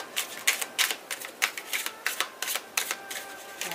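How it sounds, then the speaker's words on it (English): Tarot cards riffled in quick, crisp bursts during a reading, a rapid run of papery flicks up close with no talking. "We'll do 3 shuffles"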